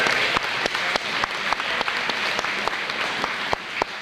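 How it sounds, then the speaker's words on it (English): A banquet audience applauds for speedway race drivers at a 1998 awards dinner, a steady close wash of many hands clapping with a few sharper individual claps standing out. "Let's give a round of applause to all those drivers you just saw"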